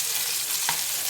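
Small chela fish lightly frying in hot oil, a steady soft sizzle with a brief stir or clink just past the midpoint, close and continuous with no talking.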